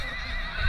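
A white horse neighs once in a short, loud burst, a packhorse carrying a load along a difficult rural trail.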